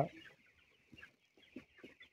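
Broiler chickens on a poultry farm cluck faintly in a few short, soft bursts against a quiet background.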